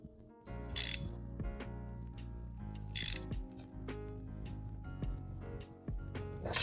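Ratchet wrench clicking as spark plugs are tightened on a Fiat 500 Abarth engine, close and crisp, with steady runs of ratcheting clicks broken by a few louder metallic clacks.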